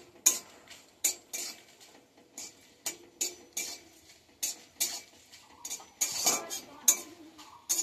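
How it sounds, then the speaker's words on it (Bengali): Jaggery for a jujube plum pickle being stirred in a pan, with a spoon scraping and clinking against the metal in a steady series of sharp, close strokes. "গুড়টা একটু নাড়া দিই।"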